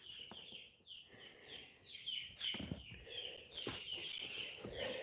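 Chickens cluck and chatter indoors in a climate-controlled shop building, a busy stream of overlapping calls and squawks at moderate volume with no talking.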